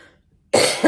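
A single sharp, loud cough from an adult who has a lingering cough after a cold, bursting out after near-silence with a second smaller push at the end, close to the listener.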